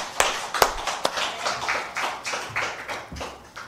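A church congregation claps in short, uneven bursts of scattered hand claps, moderately distant and not tightly in rhythm, during a Sunday worship service.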